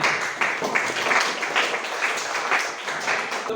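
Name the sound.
classroom applause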